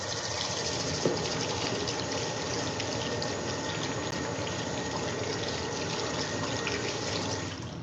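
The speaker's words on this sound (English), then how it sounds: "I just gotta wash my hands up here" Tap water runs steadily into a sink as hands are washed, a continuous close hiss and splash with no talking.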